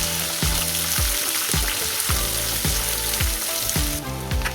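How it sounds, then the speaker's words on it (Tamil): Large onions and coconut sauté in a pan for a beef roast, loud and close, with a continuous hiss of hot oil broken by a regular thud-and-scrape of the ladle roughly twice a second. "அதையும் சேர்த்து நல்லா வதக்கி வச்சுருவோம்"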